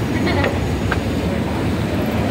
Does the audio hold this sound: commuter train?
yes